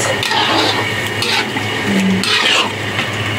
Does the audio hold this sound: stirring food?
yes